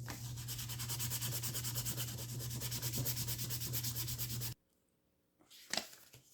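Fast rhythmic rubbing of 800 grit abrasive polishing the frets of a Classic Vibe Jazzmaster guitar, close and continuous for about four and a half seconds, then a short pause and a few faint rustles.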